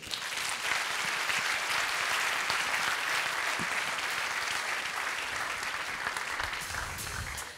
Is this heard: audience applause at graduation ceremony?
yes